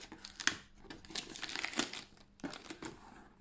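Crinkling and crumpling packaging as a tea subscription box is opened, with irregular bursts of rustling and crackling close to the listener, louder around the first half-second and again near the end.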